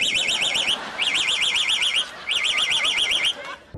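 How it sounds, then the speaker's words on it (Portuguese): A bird-sound alarm clock rings in three bursts of rapid warbling, chirping trills separated by short pauses, loud and close with nothing else over it. "A nova moda agora é o alarme pássaro."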